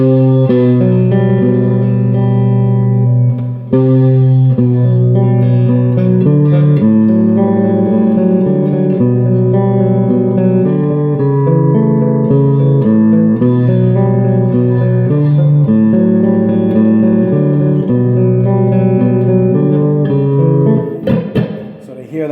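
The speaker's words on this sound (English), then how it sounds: "That plate reverb, you got to crank it way up." Sustained guitar chords ring out through an Orange Crush Pro 120 solid-state head with its plate reverb cranked up, a long reverb tail washing over the notes; loud and continuous, no talking.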